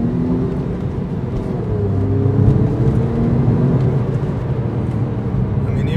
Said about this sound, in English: Let's switch that on, the sports exhaust.